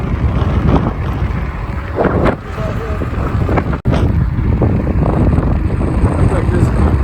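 Steady, loud wind buffeting a microphone while riding an Ecotric fat tire ebike outdoors, a continuous roar with one brief dropout partway through and a faint voice beneath it.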